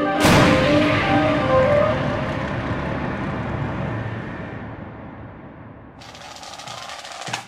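A Royal Tank Regiment tank's main gun fires with a loud, close boom that rolls into a long, fading rumble, followed by a burst of broadband noise near the end.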